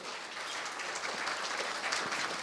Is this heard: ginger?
no